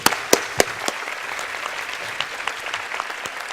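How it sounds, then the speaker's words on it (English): A conference audience applauds at a strategic communications forum in Riga, a dense burst of clapping that starts with a few sharp claps and settles into a steady, even patter for several seconds. "And a good round of applause to Alex Aiken for moderating this."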